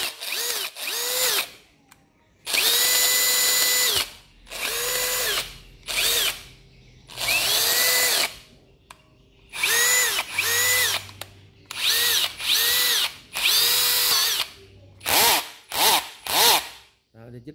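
A Japanese cordless drill set to screwdriver mode runs in about a dozen loud, close bursts of motor whine, each lasting a second or so and separated by short pauses.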